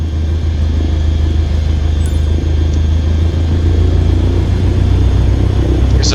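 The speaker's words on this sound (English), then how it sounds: "Now slowly taxi onto the runway and align the plane with the center line." Airliner taxiing onto the runway in Microsoft Flight Simulator 2020, a steady low engine rumble that holds constant and loud throughout with no talk.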